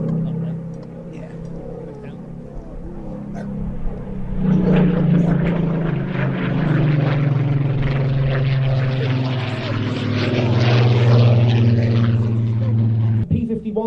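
A P-51D Mustang propeller fighter droning steadily, its engine growing louder and fuller partway through and holding a strong, even hum until a sudden cut near the end; a voice may be faintly present underneath.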